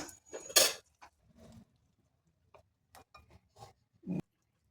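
Cooked Ooty chillies are scooped from a pan into a bowl, giving a few short metal-on-dish clinks and scrapes: one louder clatter at the start, then sparse, quiet taps with pauses between them.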